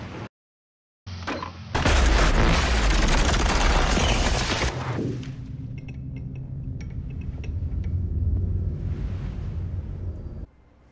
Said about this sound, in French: L'explosion souffle alors les parties vitales de l'usine